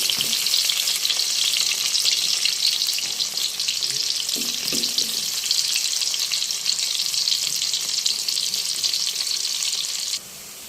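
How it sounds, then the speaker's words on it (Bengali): Cubed onions fry in plenty of hot oil as they turn brown, a loud, dense, unbroken sizzle close by with a few brief stirring scrapes, cutting off abruptly near the end. "পেঁয়াজটা বেশি ভাজা যাবে না, বাদামি বাদামি কালার হয়ে এসেছে।"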